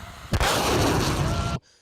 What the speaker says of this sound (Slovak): Vy počujete tú nadzvukovú strelu.